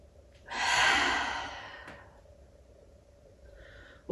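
A forceful yoga exhale with the tongue out, done from a tabletop pose, comes as one long, loud, breathy rush of air that fades out slowly, followed by a short, softer breath.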